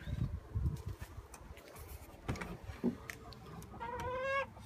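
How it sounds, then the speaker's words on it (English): Pekin bantam chickens cluck softly in a coop, with scattered low clucks and shuffling, then a rising, drawn-out cackle near the end, close by and moderately quiet. "you will see two bantams, the Pekins"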